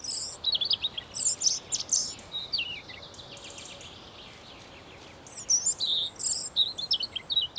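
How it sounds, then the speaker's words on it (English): European robin singing in a German forest, bursts of high trilling, warbling phrases repeated close and clear over a soft steady background hiss, with a quieter stretch midway. "The robin is loudly calling for his partner too."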